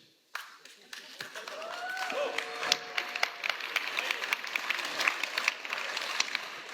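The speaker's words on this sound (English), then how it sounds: "The people that just clapped were my own people" A small group of people claps near Dolní Břecany, south of Prague, a patter of scattered hand claps that swells and keeps going for several seconds at a moderate distance.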